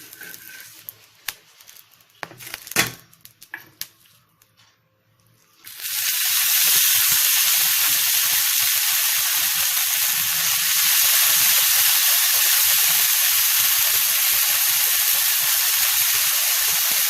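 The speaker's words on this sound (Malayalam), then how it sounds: "നമുക്ക് ഈ ഉണക്ക ചെമ്മീൻ കുറച്ച് എണ്ണ മാത്രം ഒഴിച്ചിട്ടൊന്ന് വറുത്തെടുക്കാം" Dry prawns fry in a little oil with a loud, steady hiss and sizzle that starts abruptly after a few quiet seconds of faint clatter and persists to the end.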